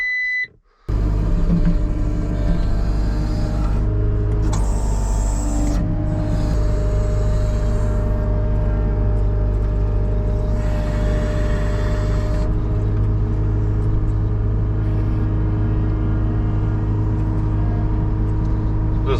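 Skid steer loader engine idling and running steadily nearby, a continuous low rumble with a faint high whine and a brief dropout near the start, no voices.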